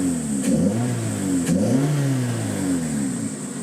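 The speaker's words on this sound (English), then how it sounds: "That HKS exhaust makes it sound very cool." A 2006 Suzuki Swift Sport with an HKS aftermarket exhaust revs up and down twice in quick succession, its engine note rising and falling steadily with a raspy, throaty tone at close range.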